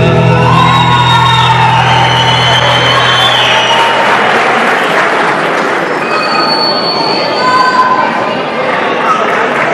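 Applause from an audience at a gaucho folk dance festival, a dense broadband clapping that fills the whole stretch, with held musical tones fading out under it early on.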